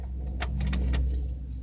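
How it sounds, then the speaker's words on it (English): Keys jangle briefly near the steering column of a Mazda Miata while its steering lock is undone, a quick close metallic rattle over faint low car rumble. "So I took it and unlocked it"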